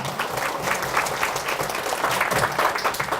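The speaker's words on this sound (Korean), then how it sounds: "박수로 하나님께 영광." A church congregation claps steadily and enthusiastically, a dense wash of applause that holds at an even level throughout.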